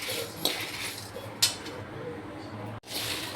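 Spiced masala for North Indian mango pickle roasting slowly in a pan, with a few sharp clinks of a metal utensil over a faint low frying hiss.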